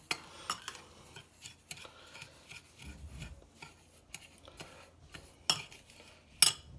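A spoon scraping and stirring a dry salt and sugar mixture in a bowl for curing red fish, quiet irregular rasping strokes with occasional sharper clinks, close and without talk.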